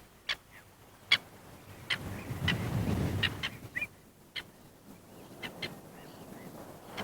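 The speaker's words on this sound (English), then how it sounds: "The seabirds and waders, these are oyster catchers" Sharp, piping calls of oystercatchers ring out in a scattered series, mid-distance, over a soft rumble of wind or surf on the coast of Zealand.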